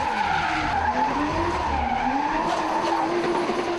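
A 1JZ-powered Supra drifts at a D1NZ event at Waikaraka Park, its tires skidding in one continuous loud squeal as the engine note rises and falls beneath it.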